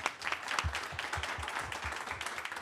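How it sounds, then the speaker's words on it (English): Audience applause at a Startup Grind Austin event in honor of the guest Evan, a dense, steady clapping from a room full of people that lasts throughout at moderate loudness. "let's give Evan a big round of applause"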